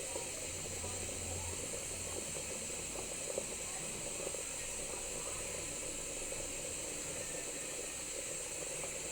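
Radish pieces with turmeric fry in a little oil in a home kitchen pan, giving a steady, faint sizzle that stays even and unbroken throughout with no voices.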